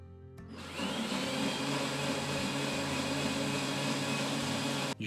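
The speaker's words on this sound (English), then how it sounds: "put it into a food mixer or blender" A food mixer or blender purees cooled chicken tikka masala sauce mixture with cold water, starting after a brief pause and then running as a loud, steady motor whir with a sustained high-pitched whine until it cuts off at the end.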